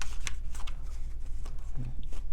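Tarot cards shuffled by hand, a steady papery riffling with quick slaps and flutters, close and fairly loud over a low constant hum, with no talking.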